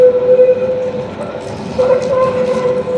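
A ZET city tram rolls past, loud and close, its wheels giving a sustained metallic squeal over a low rumbling drone that swells again toward the end.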